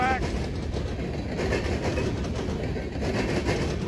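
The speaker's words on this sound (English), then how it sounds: "Here come the auto racks." A CSX or Norfolk Southern freight train of empty auto rack cars rolls past in Marion, Ohio, as a steady rumbling roar with faint clickety-clack, close and continuous throughout.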